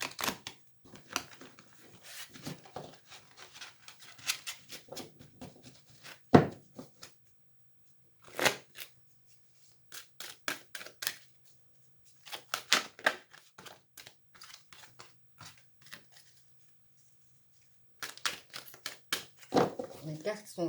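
Large guardian angel tarot cards being handled and shuffled, giving a run of quick crisp flicks and riffles in bursts with short pauses, close and moderately loud, with brief speech mixed in.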